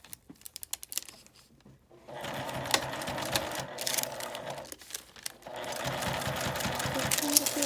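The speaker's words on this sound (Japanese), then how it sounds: "表から端ミシンをかけます。" A sewing machine edge-stitches the face of a large matte-laminate double-zipper pouch with cooking paper layered on top. Stop-start bursts of rapid, close needle clatter follow a short quiet gap, then run steadily to the end.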